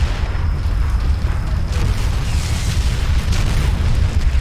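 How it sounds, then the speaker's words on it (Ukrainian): Continuous heavy rumbling booms of high-explosive shells bursting over trenches in the video game Combat Mission Shock Force 2, rolling on without pause, loud and dense, like a sustained battlefield barrage. "Розривними снарядами над окопами вибухають міни."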